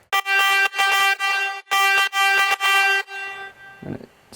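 A bright, buzzy synth lead plays a run of sustained notes that slide smoothly into one another, loaded with effects, then a faint tail rings out at the end.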